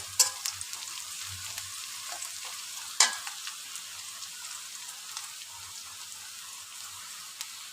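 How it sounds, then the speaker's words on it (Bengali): Bay leaf and spices stirred and fried in a pan sound faint and close: light sizzling with scattered scraping taps from the spoon and one sharper clack near the middle. "প্রথমে একটু নেড়ে চেড়ে কষাই নেব।"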